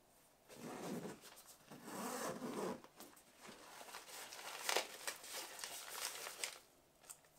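The main pocket of a DJI drone carry bag is unzipped in a few rasping pulls, followed by fabric rubbing and crinkling of packaging. The sounds are close and quiet, and no one speaks.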